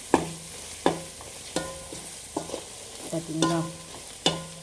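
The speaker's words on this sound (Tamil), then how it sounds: "இதையும் நல்லா வதக்கி வைக்கணும், நல்லா வதங்கணும்." Masala sautés in oil in a pan: a spoon rhythmically scrapes and clanks against the metal every second or so over a soft sizzle, and a voice speaks briefly.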